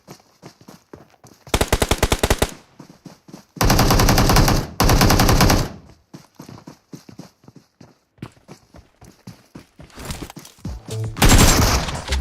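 Gunfire in the mobile battle royale game PUBG Mobile, including a DBS shotgun: several loud, dense bursts of rapid shots separated by quieter stretches of footsteps and small clatter.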